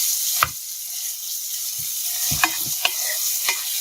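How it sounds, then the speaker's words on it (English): Vegetables frying in a pan for Gormeh Sabzi stew, a steady bright sizzle with a few sharp scraping and stirring knocks of a utensil scattered through it. "And they should be fried well in this stage."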